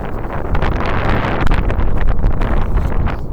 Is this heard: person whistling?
no